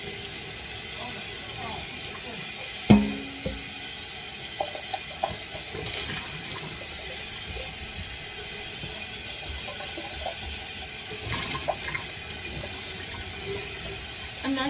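Warm tap water runs steadily into a kitchen sink being filled for washing dishes, a constant close hiss with a few clinks and knocks.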